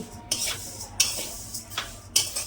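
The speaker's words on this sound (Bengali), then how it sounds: "মুগ ডাল ভাজছি" Mung dal stirred and scraped while frying in a hot pan, with soft sizzling and three sharp metallic scrapes at regular intervals, close up.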